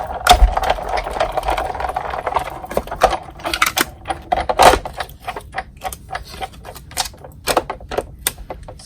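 A Big Shot die-cutting machine cranks silver foil through its rollers, producing a steady run of close, rapid clicking and ratcheting taps with brief louder knocks.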